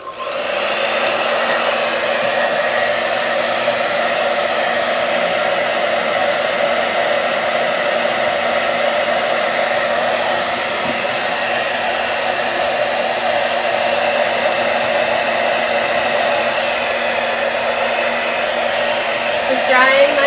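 A hair dryer on its lowest setting drying paint blows a steady, continuous whirring hum, close and even throughout with no talking.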